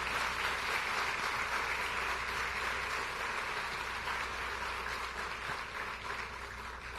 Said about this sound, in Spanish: voy a volver a pedirles otro aplauso por esa superministra de Educación